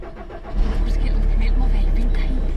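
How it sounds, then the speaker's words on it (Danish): A diesel car engine starts and settles into a warming idle, with a low, steady rumble swelling after a half-second and continuing under a person talking. "Så kan jeg lige få lov til at varme dieselbilen."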